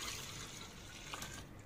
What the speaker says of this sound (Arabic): في شفشق الخلاط هحط نص لتر من الحليب الساقع المتلج